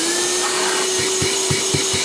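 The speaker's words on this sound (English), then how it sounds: "What I was looking for was a battery powered dryvac thing." A Black & Decker FLEX battery-powered dry vacuum runs steadily up close, a loud constant whine with a high motor tone, plus a few soft knocks partway through.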